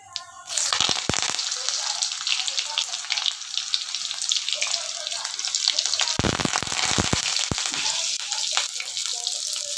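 Cumin, garlic and curry leaves sizzle in hot oil, starting with a sudden loud hiss that stays dense and bright, with a couple of brief clatters midway.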